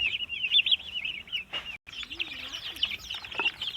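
Young turkey chicks cheep in high, wavering peeps that run almost without a break, fairly close, with a soft low chirp in the background and no voices.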